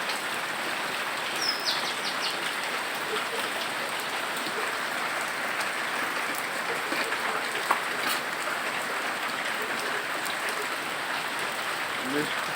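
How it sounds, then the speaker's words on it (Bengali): Steady morning rain falls throughout, a dense continuous patter with a faint bird call early on, heard from nearby without any talk. "দেখুন, বৃষ্টি হচ্ছে।"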